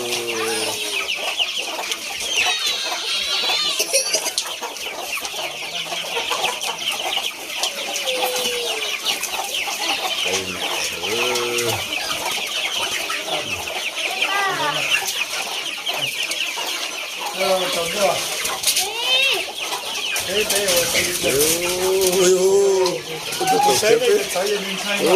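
Chickens cluck and chatter continuously on a farm, fairly loud and close, with other birds mixed in for about twenty-five seconds; no clear talk.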